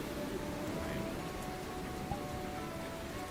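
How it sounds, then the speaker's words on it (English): Steady rain patters on a surface, a continuous wash of soft drops with no voices. "It's raining and so thunder's not going to be good for that."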